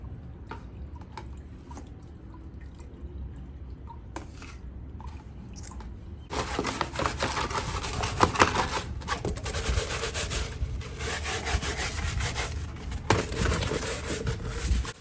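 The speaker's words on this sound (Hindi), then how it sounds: "यहाँ पर मैंने बस इसको दिया है ब्रश और सर्फ, और इसकी मदद से अब ये सारी बास्केट्स बिल्कुल आराम से साफ़ हो जाएंगी।" Dusty mesh baskets scrubbed with a brush and detergent powder: quiet wet rubbing at first, then a louder, steady, close scratchy scrubbing with squishy, liquid texture that continues to the end.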